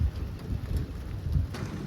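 Steady rain pouring down around an RV during a thunderstorm with tornado warnings, a dense continuous hiss with low rumbling underneath, fairly loud and close.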